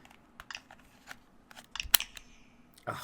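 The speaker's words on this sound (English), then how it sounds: "I didn't know that they added an extra clicking noise when the system is on." Nintendo Switch console making its system clicking sounds: a handful of sharp, dry clicks scattered across a quiet stretch, with one crisp louder click near the middle.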